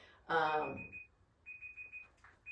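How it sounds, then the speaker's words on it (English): A kitchen timer goes off with bursts of rapid, high electronic beeps, repeating after a brief pause, while a voice speaks briefly at the start. "That is a timer going off."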